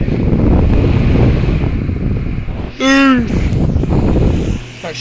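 A 2007 Honeywell HT-804 seven-inch high-velocity personal table fan runs on its high setting, giving a loud, steady rush of airflow. A brief voiced sound rises over the whoosh near the middle.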